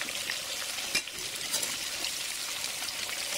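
Beef pilaf with carrots, Aleppo pepper and paprika sizzles and fries in a pot over maximum heat while it is gently stirred, a steady close crackle with faint scraping.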